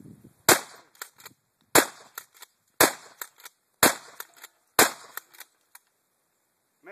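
A shotgun is fired at a VCR: five sharp, loud blasts about a second apart, each ringing out briefly before the next, with no voices in between.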